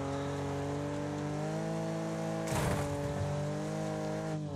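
Steady engine drone of a car in a racing video game during stunt driving, with tonal harmonics holding near constant pitch and a brief loud scrape or impact burst midway, no voices.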